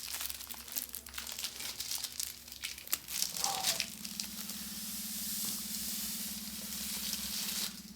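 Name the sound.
plastic wrap being removed from mini katana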